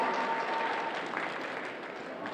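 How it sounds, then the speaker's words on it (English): A high school holiday assembly audience gives a round of steady applause, a broad wash of clapping from a large crowd heard at moderate distance, fairly faint. "give him a round of applause"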